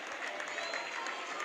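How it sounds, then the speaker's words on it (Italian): Fans applauding at a roller hockey match in an arena, a continuous dense wash of clapping and crowd noise throughout. "Salutano anche i tifosi del Tristino, applaudono il Centro Giovani Calciatori"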